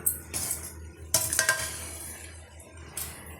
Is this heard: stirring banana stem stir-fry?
yes